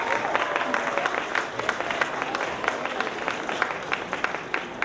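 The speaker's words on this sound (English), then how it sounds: "another warm round of applause." A crowd's round of applause, moderately distant and even, a steady wash of many hands clapping with faint voices mixed in.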